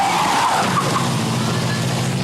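Rally car engine revving and tyres skidding as the car struggles stuck off the road at a 1996 Belgian rally, a loud rough roar with scrabbling noise and faint crowd voices around it.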